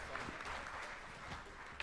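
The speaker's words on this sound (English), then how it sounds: "let's give a round of applause to our Chiefs of Ontario staff for the great presentation" Faint, distant clapping from an audience at an education and language forum, soft and blurred, with murmuring mixed in.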